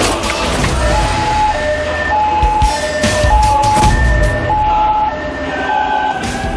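An ambulance siren wails at a harbor, a loud, close two-tone warble repeating steadily over rumbling engine and ambient noise.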